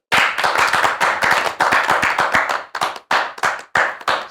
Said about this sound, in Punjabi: ਮੂੰਹ ਤੇ ਵੱਟ ਪਾ ਕੇ ਤਾੜੀ ਮਾਰੀ